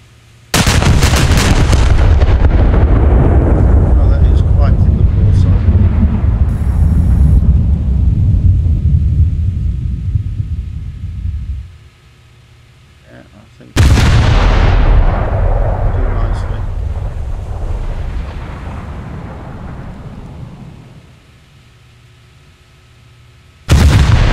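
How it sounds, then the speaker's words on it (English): Destroyer main guns fire in a naval video game, two massive booming salvos each followed by a long rumbling decay, loud and close, with a third blast starting at the very end. "Let's have a look at some main gun action."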